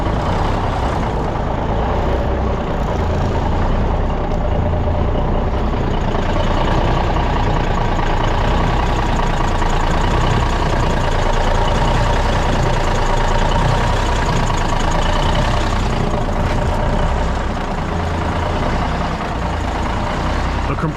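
A former New York City Brockway fuel truck, left sitting and vandalized, runs continuously with a loud, rough, close-up engine rumble that holds steady throughout, a brief hiss rising near the end.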